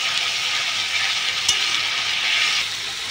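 Ground spice masala with onion and blended tomato paste frying in a pan, a dense continuous sizzle with a faint stir partway through, steady and close, no voices over it.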